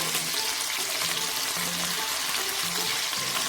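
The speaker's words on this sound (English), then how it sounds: "we're going to let them fry on medium-high heat until they develop a bit of colour" Hilsa fish pieces fry in a pan over medium-high heat, a steady close crackling sizzle with a constant hiss and occasional louder spits, no voices.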